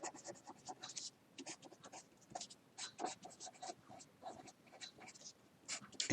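Chalk or marker scratches across a lecture board in short bursts and strokes, faint and close, with brief pauses between words being written and no talk.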